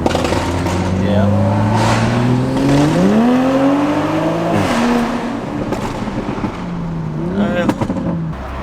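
Loud Toyota Supra engines rev and rise in pitch on a highway, echoing as they pass under a bridge, with a sustained roar throughout.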